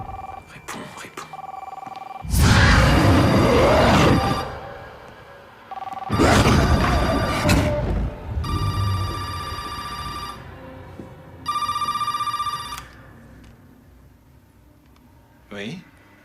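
A telephone rings in repeated long electronic bursts, loud and close, with gaps between rings and brief speech before it and a short sound at the end.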